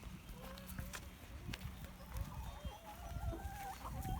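Rescued hens cluck softly and intermittently at an animal sanctuary, faint chirpy calls over low background noise and a few light knocks.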